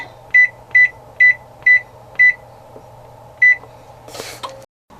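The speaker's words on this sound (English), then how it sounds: "The first thing I'm going to do is set the temperature for 400 degrees." An oven's electronic control panel beeps as the temperature is set to 400 degrees, six short, clear beeps in a steady rhythm with a fan hum beneath, then a brief clatter before the sound cuts off.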